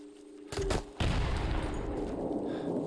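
Gunfire in the video game Into the Dead 2, two sharp close shots about half a second apart, each booming loudly and leaving a rumbling decay beneath a low backdrop of music.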